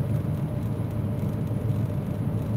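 A truck engine idling gives a steady, low, rumbling drone that holds even throughout, close and continuous with no talking.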